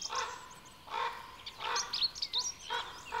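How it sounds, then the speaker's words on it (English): Ravens call near wolves feeding in young pines beside a surface mine. Several harsh, croaking calls come in irregular bursts at moderate distance, with short gaps of quiet between them. "Ravens are often heard wherever wolves are eating."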